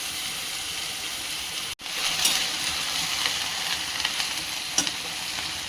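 Fenugreek greens (methi bhaji) sizzle and fry steadily in a pan, a continuous close hiss. A brief dropout comes early, and the greens are stirred now and then.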